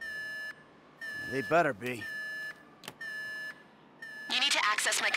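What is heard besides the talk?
alarm beeping after being tripped, GTA 5 video game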